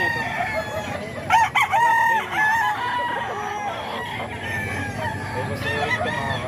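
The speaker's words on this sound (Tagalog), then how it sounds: "Laking manok to mga kaidol." Crowing from a large nine-month-old rooster rings out close and loud, one drawn-out call breaking through steady background clucking and other birds around it.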